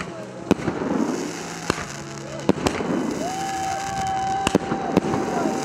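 Sharp firework bangs pop at irregular intervals over a murmuring crowd at a torchlight procession closing a ski cup in the Rakhiv area of the Carpathians, with voices talking and a whistling tone rising in the background.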